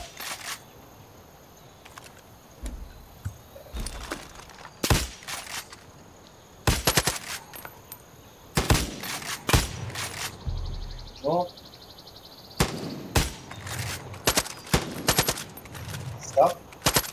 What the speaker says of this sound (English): Shoot down those vultures